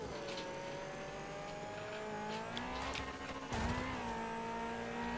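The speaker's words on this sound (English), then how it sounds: "The bumper car sounds awesome, though." A car engine in the off-road trucking game SnowRunner drones and revs continuously, its pitch sliding up and down with a brief surge near the end, loud and steady without speech.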